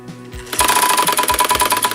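A freshly oiled Dressmaker 160 sewing machine starts up after a couple of soft knocks and runs with a fast, steady mechanical whir and rattle, close and loud.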